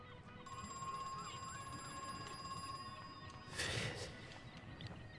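In the horror video game Crow Country, a telephone rings with a continuous bell tone over low ambience for about three seconds, then stops as a brief loud noisy burst follows.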